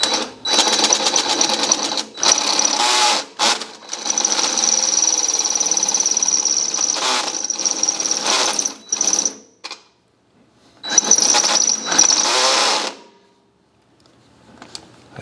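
A drill driving fasteners with its clutch slipping, a loud rapid ratcheting chatter in long bursts, stopping briefly and then running again, close and harsh.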